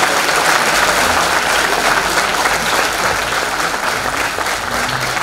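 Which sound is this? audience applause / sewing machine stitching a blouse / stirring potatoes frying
audience applause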